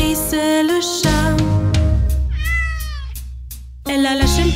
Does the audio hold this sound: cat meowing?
yes